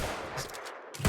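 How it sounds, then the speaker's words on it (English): Rapid gunfire in the video game New World, a quick burst of sharp broadband shots packed into about a second, close and fairly loud with no talking. "I'm just showing off how fast you can shoot, right?"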